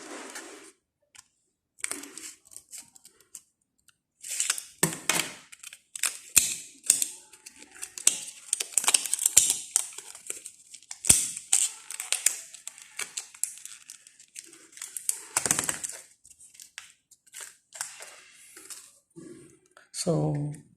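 SanDisk microSD card packaging, plastic blister and card, being cut and pried open up close, with repeated clicks, crinkling and snipping scattered irregularly throughout while a person speaks intermittently.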